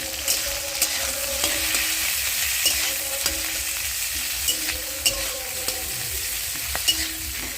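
Sliced onions with salt fry in a kadai with a constant close sizzle, broken by regular scraping clicks as a spoon stirs the pan.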